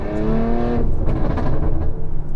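Porsche 718 Boxster GTS fitted with a Milltek exhaust, its engine revving loud and close with a rising harmonic whine that breaks into crackling, popping overrun bursts, with no voices.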